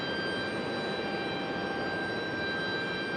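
A JetBlue airliner's jet engines roar steadily at an airport, a broad, constant wash of engine noise with a thin high whine running through it.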